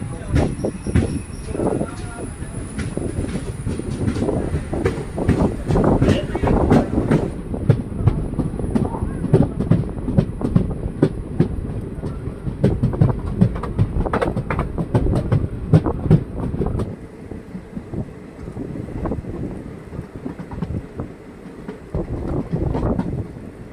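A passenger train pulls away from Parappanangadi railway station, its wheels clattering over rail joints in irregular bursts with occasional squeals, loud and close at first, then fading slightly near the end.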